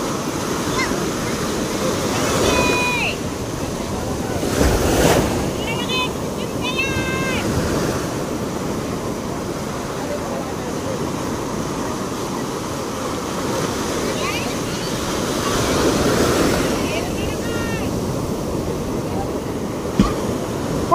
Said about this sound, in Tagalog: Oh, lalaki ng alon.